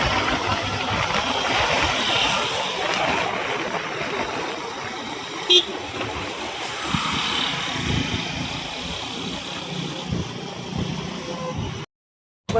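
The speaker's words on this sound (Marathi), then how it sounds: "इथं ट्रॅफिक लागलेलं आहे खतरनाक." Heavy road traffic beside a bus stop rolls as a continuous close engine rumble with idling vehicles, one brief sharp sound partway through, and a sudden cut just before the end.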